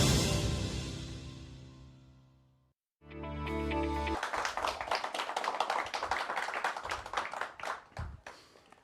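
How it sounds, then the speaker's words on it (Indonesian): A studio audience claps for farmers in a dense, lively round of applause with sharp individual hand claps, following a closing musical sting. "Ini tepuk tangan untuk para petani kita dan tepuk tangan optimisme untuk swasembada pangan yang dipercepat."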